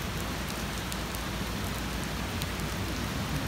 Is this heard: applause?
no